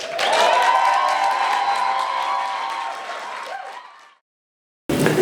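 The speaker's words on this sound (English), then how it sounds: "Let's give a round of applause to Serah Katusia." A crowd at a marketers' evening event applauds and cheers for a speaker, loud dense clapping with some whoops that swells early, gradually fades and cuts to silence before a brief burst returns at the end.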